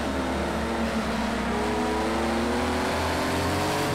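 A Porsche 935/80 race car engine in the racing game Project CARS 2, at Donington Park, revving hard. The continuous loud drone climbs and dips in pitch as the throttle is worked, with no voices over it.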